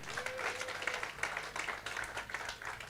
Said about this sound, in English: let's give all of them one collective round of applause